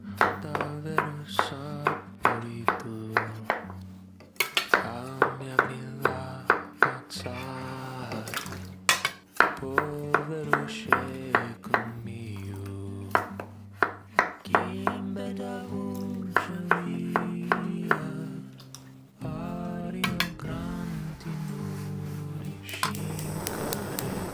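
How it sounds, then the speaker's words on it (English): Washed potatoes being chopped into skin-on chunks for a roast dinner, a steady run of sharp knife knocks on a cutting board in a kitchen, with brief pauses between batches of cuts. "once they're washed, I'm just gonna start chunking them up"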